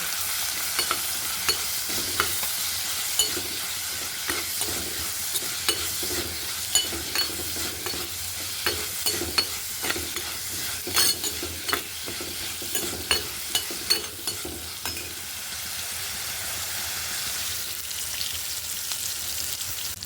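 Tomatoes and small onions frying with fenugreek in a pan, a steady close sizzle punctuated by frequent rhythmic scrapes and taps of a spoon stirring throughout.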